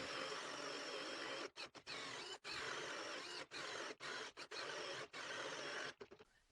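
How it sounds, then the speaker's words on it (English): A drill bores out a hole in wood while building a flip top cart, giving a loud, steady whirring grind that stops and restarts in several short bursts and ends in brief stutters. "continue on until it drills out the entire spot"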